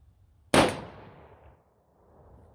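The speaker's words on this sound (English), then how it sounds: "I'm going to go to the other target, shoot 5 more at it" A single sharp rifle shot from a .223 or 6.5 Creedmoor cracks out loud and close at a target range, its report decaying into a short echoing tail before quiet returns.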